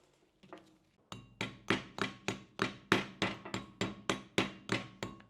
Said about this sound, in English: Use the other end of the hammer where you got that little point.